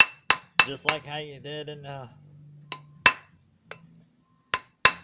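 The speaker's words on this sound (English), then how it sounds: "Sometimes you got to hold it in your hand and smack it and make it back to what you want." A handmade metal spoon ring struck with a hammer to resize it, sharp ringing metallic blows in a loose irregular series up close, with someone talking between the strikes.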